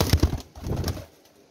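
Low cooing from captive pigeons held for sale, a few soft rounded coos close by in the first second, then fading to quieter shuffling and near silence.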